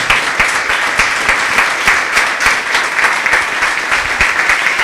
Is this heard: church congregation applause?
yes